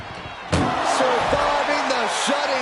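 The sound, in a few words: ambulance door being forced shut in a wrestling match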